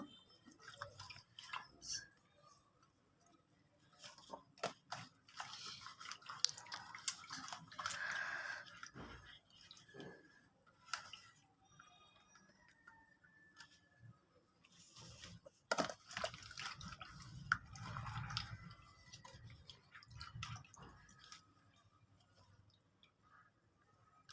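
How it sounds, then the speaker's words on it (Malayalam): Banana leaves being rinsed on both sides with water for a Kerala snack, giving soft intermittent drips, splashes and squishy rubbing, fairly quiet and close with pauses between strokes. "വാഴയിലേനെ 2 വശവും നന്നായിട്ട് കഴുകിയെടുക്കുക."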